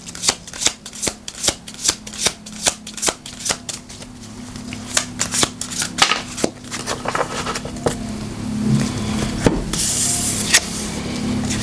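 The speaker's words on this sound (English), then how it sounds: "we're going to pull some cards for you for the Aries new moon" Tarot cards riffle-shuffled in a steady run of crisp, close snaps, followed by softer sliding and rustling of the deck with a faint background hum and no talking.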